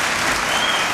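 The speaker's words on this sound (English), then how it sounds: "I will ask the audience, please do not applaud" Loud, dense audience applause fills a vice presidential debate hall during the Gore, Quayle and Stockdale debate, a steady, unbroken wash of many hands clapping at close range with no voices over it.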